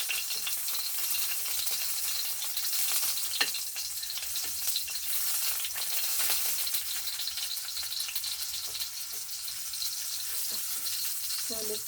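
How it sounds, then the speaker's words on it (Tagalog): Hot dogs fry in a pan, giving a soft, continuous sizzle with occasional small pops and clicks. The sound stays fairly quiet and even from start to finish. "cook the hot dogs"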